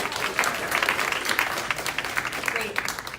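Applause from an audience at a vegan technology panel and meetup: a continuous, lively patter of many hands clapping at moderate loudness, with individual sharp claps pulsing through and faint voices mixed in.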